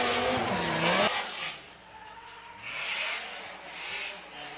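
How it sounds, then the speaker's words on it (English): A drift car at a Formula Drift competition run taps the wall, drops out of its slide and reinitiates the drift, with loud engine roar and tire squeal that fades and then swells again. "gets into the wall, taps the wall, comes out of drift, reinitiates"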